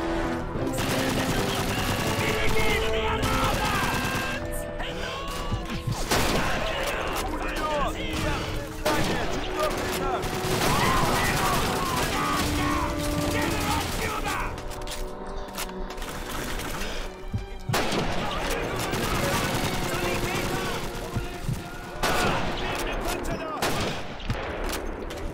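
Machine gun fire in the World War II shooter game Call of Duty 2, repeated bursts of gunfire and explosions crackling through a busy battle, with voices speaking over the din.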